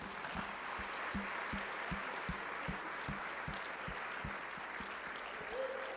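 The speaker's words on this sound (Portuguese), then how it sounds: "aplauda Jesus, por favor" A church congregation applauds for Jesus at a worship service, steady broadband clapping running throughout under a regular low rhythmic thump, with no talking.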